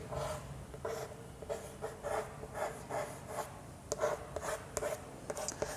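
Chalk or marker strokes on a classroom board, a run of short rhythmic scratches and taps close by, with no talking over them.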